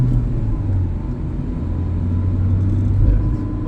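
From inside a car on a driving-test route in Hendek, Sakarya, the engine rumbles low and steady while the car pulls away in first gear, with the drone swelling slightly near the end.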